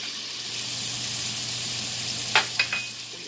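Onions go into a hot frying pan with bacon for fried cabbage, giving a steady, moderately loud hiss of sizzling oil throughout, with a few short clinks of a utensil near the end.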